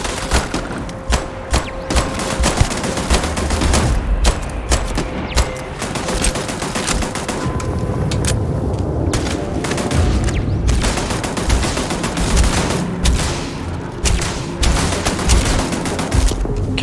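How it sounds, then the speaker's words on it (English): Turret gunfire in the Starfield video game fires in dense rapid bursts of shots with booms and thuds, loud and continuous across the scene. "Oh, they got turrets too"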